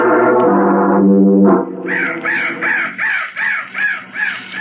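A crow caws in a radio drama, about six harsh rhythmic caws, loud and close, following a low sustained tone.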